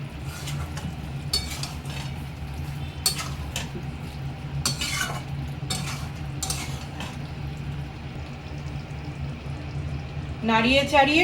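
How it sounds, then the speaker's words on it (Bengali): Spoon stirring garam masala powder into a dal and chicken curry in a pot, giving repeated scraping clinks at an irregular rhythm over a steady low background, with a brief sizzling burst near the end. "গরম মশলার গুঁড়ো অ্যাড করলাম, নাড়িয়ে চাড়িয়ে"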